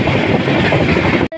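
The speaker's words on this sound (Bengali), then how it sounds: "আমার কথা খুব একটা ভালো শোনা যাচ্ছে না, কারণ ট্রেনের যে বিশাল তাগড়া আওয়াজ" Shalimar Puri Dhauli Express train running on rails, heard from inside as a loud, close, roaring rumble with wind buffeting, cutting off abruptly at the end.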